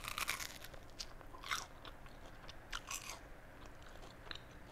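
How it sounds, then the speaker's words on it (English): Close, quiet crunching as someone bites into and chews a grilled cheese sandwich with fig butter, the crisp toasted bread giving several soft crackles over a faint steady hiss. "I'm gonna take a bite."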